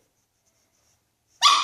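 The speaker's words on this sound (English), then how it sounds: "And all she does is bark." A small pet dog barks for a treat, one sharp close bark bursting out loudly after more than a second of near silence and trailing off at the end.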